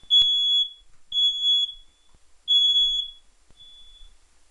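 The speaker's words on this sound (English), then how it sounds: "that is my fire detector" A home smoke detector chirps in three long, piercing high-pitched beeps with short gaps, followed by a fainter fourth tone, loud and close with no talk over it.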